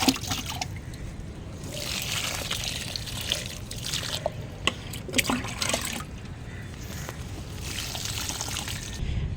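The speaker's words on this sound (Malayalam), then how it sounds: "നമുക്കിത് ഒരു 1/2 മഗ് ചെടിയുടെ ചുവട്ടിൽ ഒഴിച്ചു കൊടുക്കാം." Water poured from a mug at the base of a potted tomato plant on a terrace, a steady close trickle and splash of liquid soaking into soil, lasting several seconds without pause.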